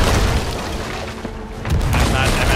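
Heavy booming blasts of cannon fire in the game Sea of Thieves over a dense, noisy mix, with a sharp crack partway through and voices mixed in.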